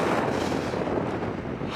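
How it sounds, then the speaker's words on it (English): Strong wind buffets a microphone on a hilltop, a loud, steady broadband roar with rumbling gusts filling the whole stretch without a break. "it's really windy up here"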